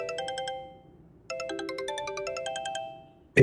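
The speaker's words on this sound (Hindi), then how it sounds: "जासिम का फोन आ रहा है इस वक्त।" A phone ringtone plays a bright, repeating electronic melody in two phrases, loud and close, ending in a sudden burst of noise.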